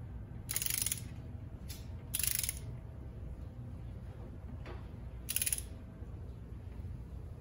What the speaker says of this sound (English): I'm going to take the torque wrench again, and it's gonna be 18 foot-pounds on everything